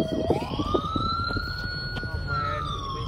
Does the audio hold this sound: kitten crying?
no